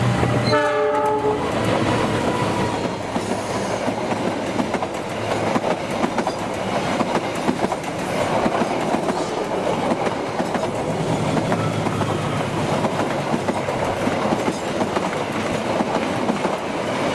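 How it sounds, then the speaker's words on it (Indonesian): The Argo Sindoro passenger train runs straight through Bekasi, opening with a loud horn blast followed by the sustained roar and clickety-clack of the passing carriages close by. "bertemu dengan kereta api Argo Sindoro 12 berjalan langsung di Bekasi"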